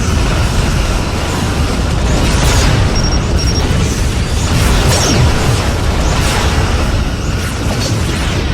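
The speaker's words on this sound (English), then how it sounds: "Borg vessel destroyed." Dense, roaring explosion rumble from a Borg vessel being destroyed in the space combat game Star Trek Legacy, sustained and loud throughout with bursts layered over a continuous blast wash and small electronic beeps.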